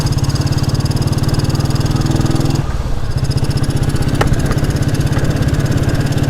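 The thumping single-cylinder engine of a Royal Enfield Bullet 350 pulses loudly and close as it accelerates, briefly easing off during a gear change before pulling again.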